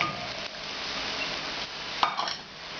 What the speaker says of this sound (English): And give this one more stir.